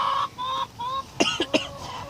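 Hens cluck in short, breathy bursts, a few close calls followed by quick choppy clucks, with no talking.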